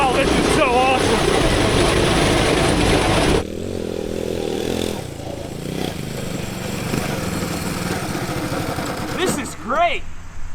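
Turbocharged engine of a 5-speed Corvette go-kart revving and running loud and close, with rising and falling engine pitch sweeps and a brief voice over the roar.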